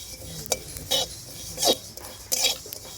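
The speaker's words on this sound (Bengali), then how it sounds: "মশলা ভাজা হয়ে গেছে, এবার নামিয়ে দেবো।" Spices for a lemon chili pickle with gondhoraj lemon are stirred in a pan over low heat, giving four distinct scraping clinks of a utensil against metal at roughly half-second intervals, close and moderately loud.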